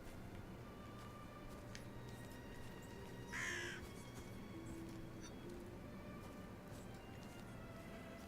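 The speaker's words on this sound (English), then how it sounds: "I heard a crow go off, which usually means there's a collectible or something." A single crow caw rings out in a carnival-themed horror video game, brief and fairly clear over a constant low ambient hum.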